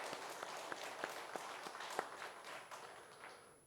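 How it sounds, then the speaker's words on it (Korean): A church congregation at an anniversary thanksgiving service claps in encouragement for its elders: a steady, fairly faint round of applause with scattered sharper claps standing out, tapering slightly toward the end. "우리 격려의 박수 한번 좀 보내주시면 감사하겠습니다."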